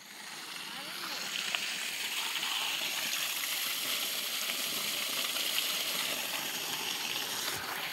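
Water from a motor-driven pump gushes steadily into a tank, a continuous, even rushing stream that holds for the whole stretch with no break.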